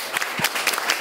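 Audience applause from a studio crowd on a Korean variety show, a short dense patter of clapping heard close and alone, steady for about a second.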